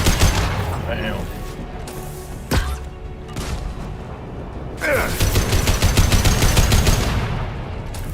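Bursts of rapid gunfire and impacts from the video game Mass Effect 2, with sharp clustered shots and a louder sustained volley near the end, with a voice talking between them.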